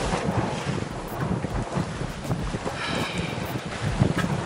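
Strong wind rushes around a sailboat at sea, buffeting the microphone with gusty low rumble while waves wash against the hull underneath, steady and close throughout.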